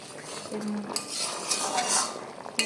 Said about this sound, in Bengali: পরিমাণ মতো জল দিয়ে ভালো করে নেড়ে নেব